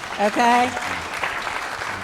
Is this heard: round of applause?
yes